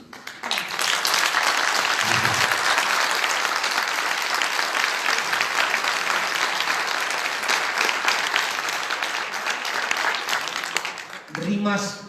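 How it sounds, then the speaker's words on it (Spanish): A theatre audience gives long, sustained applause after a performance, a loud, dense roar of clapping that holds for about ten seconds before fading, with voices briefly audible at the start and end. "queremos agradeceros esos aplausos sinceros que son el mejor pago que podamos recibir"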